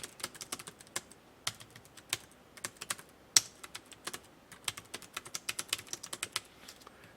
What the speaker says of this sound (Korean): 자, 이 상태에서 엔터 치고